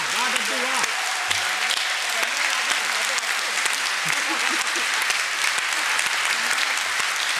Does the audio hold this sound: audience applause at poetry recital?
yes